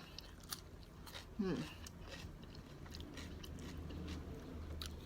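Someone chewing and biting into a bowl of khanom jeen nam ngiao noodles, with a single crunchy bite standing out briefly over a faint, steady room background.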